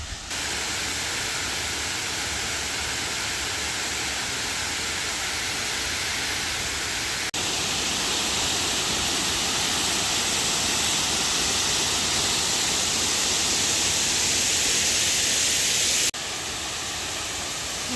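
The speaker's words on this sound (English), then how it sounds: "It's official. This is definitely Big Laurel Falls" Big Laurel Falls, a waterfall on a hiking trail, roaring as a steady broadband rush that fills the whole stretch, loud and continuous with a slight jump in intensity partway through.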